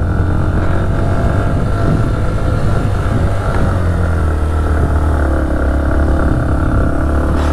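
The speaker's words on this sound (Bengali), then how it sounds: "চড়াইটা দেখো, আর এই প্লাটিনা কিন্তু হার মানিনি।" A Bajaj Platina motorcycle climbs a steep uphill road near Darjeeling, its engine droning steadily and loudly throughout with a low, continuous rumble and no letup.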